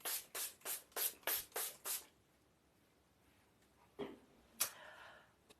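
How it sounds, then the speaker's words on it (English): A pump bottle of setting and priming spray is pressed six times in a quick, even rhythm, each a close, sharp hiss. A quiet pause follows, then a couple of soft handling sounds. "this is a great setting spray and priming spray"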